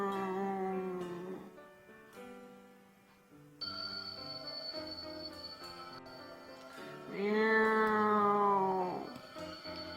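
A voice imitates a cat's meow several times, drawn-out tonal mews with pauses between them, close and fairly clear.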